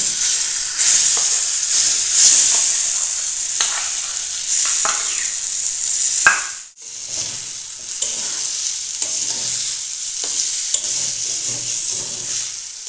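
Chana dal paste goes into fried semolina for a chana dal halwa, giving a loud close sizzle and frying hiss with frequent stirring scrapes, a brief dip midway, then steady frying and stirring.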